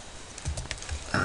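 Quiet, close keystrokes on a computer keyboard, a few irregular soft taps in quick succession ending in a slightly louder press.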